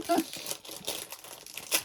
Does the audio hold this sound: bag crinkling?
yes